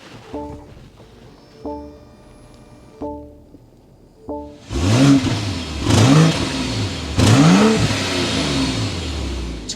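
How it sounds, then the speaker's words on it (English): After several soft electronic chimes, a BMW X7 xDrive40i's inline-six twin-turbo engine fires up and barks through a few sharp exhaust revs, each rising and falling, loud and close. "start it up so you can hear that exhaust"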